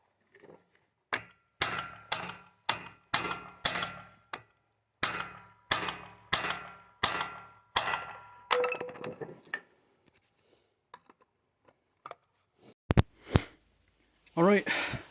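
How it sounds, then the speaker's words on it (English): A hammer whacks a car control arm bushing on a Toyota Yaris in a quick run of about a dozen sharp metallic strikes, then scattered lighter taps after a pause. "I'm just going to whack that with a hammer."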